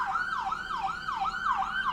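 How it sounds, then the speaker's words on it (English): Wailing emergency siren sweeping up and down in repeated cycles, clear and steady with a faint traffic hum beneath, no speech. "See them sirens?"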